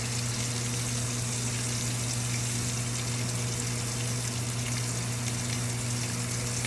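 An egg frying in a pan on the stove, a steady, even sizzle and crackle that holds at a constant level with no talking over it.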